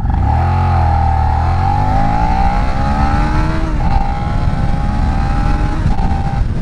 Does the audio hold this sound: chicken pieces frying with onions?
no